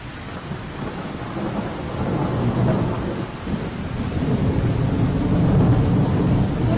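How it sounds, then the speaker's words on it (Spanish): A thunderstorm at sea, with a steady hiss of heavy rain under deep, rolling thunder that swells and grows louder across the whole stretch. No voices are heard. "Vamos a ver más o menos cómo sería una tormenta."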